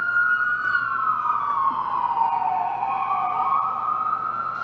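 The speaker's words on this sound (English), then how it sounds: "there's an ambulance going by right now, Wolf." An ambulance siren wails, sweeping slowly up and down over steady traffic rumble, loud and close as the ambulance passes.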